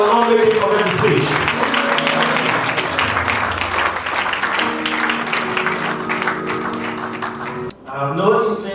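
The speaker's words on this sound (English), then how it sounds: "Come on, let's clap for the chairman" At an awards event in Lagos, an audience claps for the chairman. The applause mixes with a loud voice and tonal music, then briefly dips before the voice returns.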